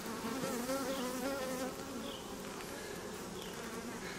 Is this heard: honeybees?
yes